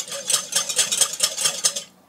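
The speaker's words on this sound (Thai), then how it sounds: "เราก็จะคนผสมให้เข้ากัน" A spoon stirs yeast into a no-knead Mallorca sweet bread mixture in a bowl, giving about eight quick rhythmic scraping strokes up close before stopping.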